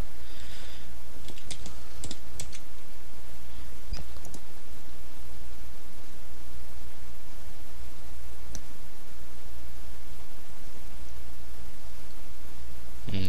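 Fast, steady typing on a computer keyboard, close and continuous, with a few sharper clicks near the start and no talking.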